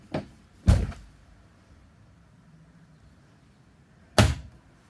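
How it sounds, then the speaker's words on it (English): Pull-out pantry in a 2021 Forest River Sunseeker 3010DS RV being opened, a light click followed by a louder sliding thunk, then another solid thunk a few seconds later, close and clear in a quiet interior. "The pull-out pantry."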